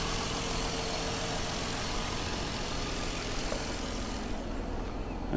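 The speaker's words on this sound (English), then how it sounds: "I can hear the air compressor kicking in and turning off." A car's V6 engine idles steadily at close range while its air compressor kicks on and off, a constant broadband hum that drops away near the end.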